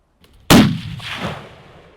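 A single loud rifle shot fired at long range toward tule elk cracks out sharply, then rolls away in a long fading echo across open country; a faint click comes just before it and no one speaks.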